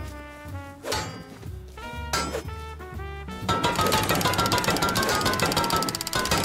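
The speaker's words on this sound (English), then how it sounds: "Can I use your repair table to repair my fucking jackhammer?" A jackhammer in the survival video game Rust pounds in a loud, dense, continuous rattle. It cuts in about halfway through, right after a stretch of tonal music.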